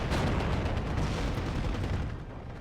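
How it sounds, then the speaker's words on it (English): Artillery fire in the war game Steel Division 2, a dense, continuous low rumble of booming shell impacts and blasts, loud and unbroken, easing slightly near the end. "keeping him down with the artillery over here"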